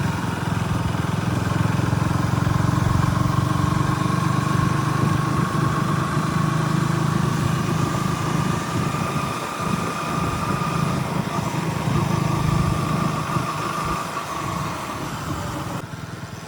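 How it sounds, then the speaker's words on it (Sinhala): A KTM Duke 160 motorcycle engine runs steadily during a ride, a loud continuous drone with wind rush, slight pitch shifts as speed changes, and no talk. "අපි බයික් එකේ වටයක් ගිහිල්ලා එමු. ඒකෙන් ඔයගොල්ලන්ට බයික් එකේ සවුන්ඩ් එක ගැන දාලා අදහසක් ගන්න පුළුවන් වෙයි"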